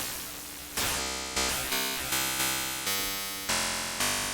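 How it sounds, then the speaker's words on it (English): A buzzy, harsh FM synth tone with distortion, struck in a series of repeated notes, each starting sharply and decaying, gritty and distorted with bright overtones. "we can even go into our distortion category here and use that to mess with it too"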